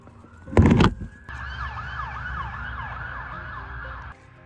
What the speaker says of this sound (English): It's a siren down by my